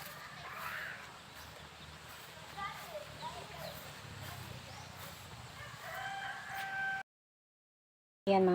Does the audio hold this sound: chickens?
yes